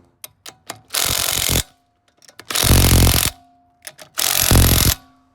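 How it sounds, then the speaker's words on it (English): An impact wrench tightening an outer tie rod on a Honda Civic in three loud, close bursts of about a second each, with small clicks and metallic taps between them. "Always torque them down with the torque wrench after you hit it with the impact."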